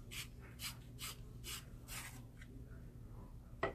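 Colored pencil being sharpened in a handheld sharpener during a coloring session, heard as a run of soft rhythmic rasping strokes, close and fairly faint, ending in a sharper click.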